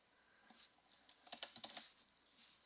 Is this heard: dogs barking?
no